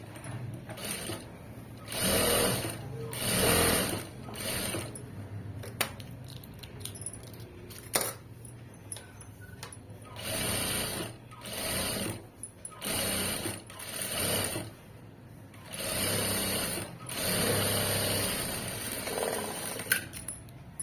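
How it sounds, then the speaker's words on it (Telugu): A sewing machine stitches a side seam on a garment, running in repeated close bursts of a few seconds each with short pauses between, with no talking. "మళ్ళీ ఫస్ట్ నుంచి లాస్ట్ వరకు ఇంకొక స్టిచ్."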